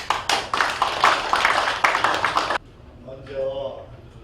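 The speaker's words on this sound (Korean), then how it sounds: "여러분 큰 박수." An audience at a political party meeting with trade association leaders claps in a burst of close, crisp applause that stops abruptly, followed by faint room noise and a brief murmur.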